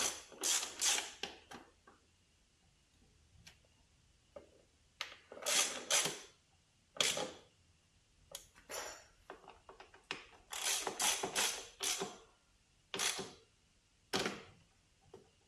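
Bolts on an Akrapovic full exhaust being tightened on an Aprilia Tuareg 660 motorcycle, with bursts of rapid ratchet clicking in short runs separated by quiet pauses, close and distinct.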